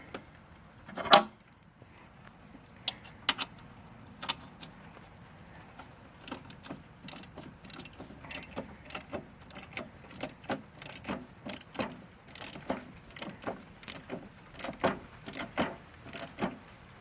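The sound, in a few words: ratchet wrench clicking on Bolens 524 snowblower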